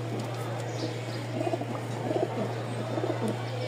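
A pigeon, a large breeding bird kept by a Dhaka fancier, coos in soft low bursts over a steady background hum, with no voices.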